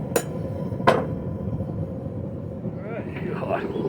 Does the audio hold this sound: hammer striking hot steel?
yes